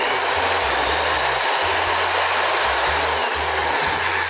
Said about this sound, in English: So get your handy dandy power tool, place it on one of the depressions, and it goes right through.